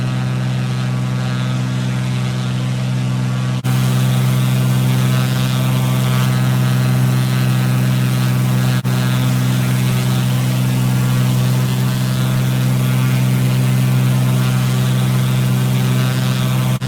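Simulated Cessna propeller plane climbing out of Shellharbour runway 16 toward 1,500 feet in Microsoft Flight Simulator, a steady, loud droning engine hum with strong tonal buzz, stepping up slightly in level after a few seconds, with no talk.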